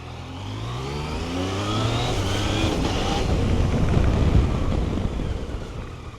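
Yamaha Tracer 900 GT motorcycle engine revving steadily with throttle blips through the quickshifter, a loud, close, continuous mid-pitched drone that rises and falls slightly over several seconds, with no talking.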